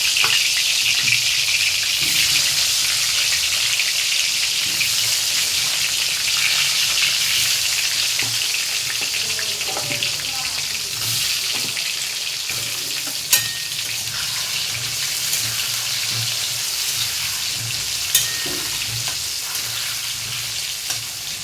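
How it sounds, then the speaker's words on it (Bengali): Potatoes coated in salt and turmeric frying in oil in a wok after eggs were fried in the same oil, a loud continuous hiss and crackle with occasional stirring scrapes and a couple of sharp clinks. "ওই কড়াতে, ওই তেলেই আমি আলুগুলোকে ভেজে নেব"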